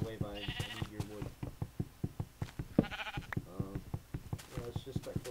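Minecraft sheep bleat several times in wavering cries over a steady rhythmic thud of game footsteps, with someone talking in between.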